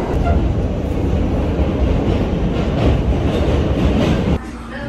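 A New York subway train roars past fast and up close, a loud continuous rumble with rattling wheels that drops off abruptly near the end.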